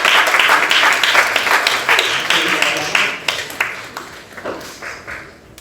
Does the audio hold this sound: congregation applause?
yes